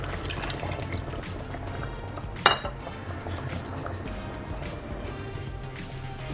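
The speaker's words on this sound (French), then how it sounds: "je vais pouvoir ajouter mon lait de coco" Coconut milk poured into a pot of lentil dhal, a continuous liquid pour under light kitchen clatter, with one sharp metallic clink of a utensil against the pot midway.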